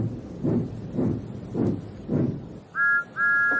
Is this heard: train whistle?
yes